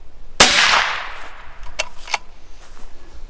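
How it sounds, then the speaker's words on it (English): A single gunshot fired at a target about ten feet away cracks sharply and loud, then its echo decays, followed by a couple of faint clicks. "we're gonna take the shot at 10 feet away to see what happens"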